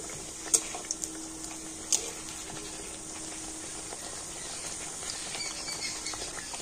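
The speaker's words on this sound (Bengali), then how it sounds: "নিমকিগুলোকে উল্টে পাল্টে খুব সুন্দর লাল লাল করে ভেজে নিয়েছি" Nimki pastries deep-frying in oil hiss in a constant bubbling sizzle, with a few sharp light clicks early on, like a utensil knocking the pan.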